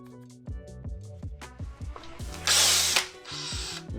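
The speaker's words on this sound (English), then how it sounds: "I'm going to attach this to my drill." A power drill fitted with a headlight polishing attachment, used on a Jeep Commander headlight, whirs in short, close bursts that rise and fall in pitch, then revs into one louder, harsher spin before easing off.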